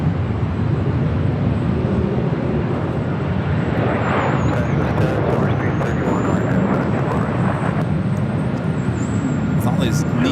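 A Delta Airlines Airbus A321neo bound for Seattle takes off at Los Angeles International Airport, its jet engines a loud continuous roar that swells in the middle with a faint rising whine, under occasional talk.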